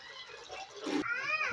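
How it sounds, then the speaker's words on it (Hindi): A cat meows once near the end of a short, fairly faint moment, a rising-and-falling cry over low room noise, with a voice and kitchen sounds of milk being poured just before it. "वो देखें बिल्ली कैसे बैठी देख रही है नीचे"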